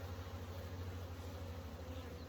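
Honey bees from a small nucleus colony drone in a continuous dense buzz on a hive frame, close and steady with no talking.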